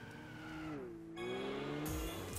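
A car drifting in Gran Turismo 6 gives a revving engine whose pitch dips and climbs, overlaid with a sustained tire squeal that grows harsher near the end.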